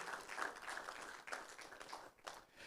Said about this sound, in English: So I want you to give yourself a round of applause, young people